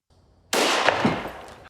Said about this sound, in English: Gunshot goes off.